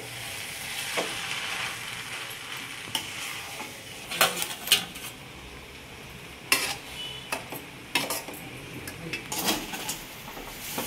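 Egg noodles are tossed and stirred in a frying pan over a soft sizzle, with sharp intermittent scrapes and clinks of a utensil against the pan at close range.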